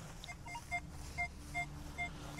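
Metal detector out in a field sounding repeated short, high tones at a steady rhythm, about four beeps over a couple of seconds, faint against a low steady background hum and ambient noise.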